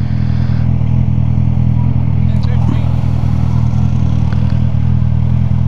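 Motorcycle engine with a bare exhaust pipe and its muffler tip removed, idling close by in a parking lot as a steady, loud, deep rumble that fills the whole clip.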